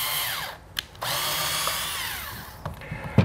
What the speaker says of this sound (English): drill just once from the side into the floor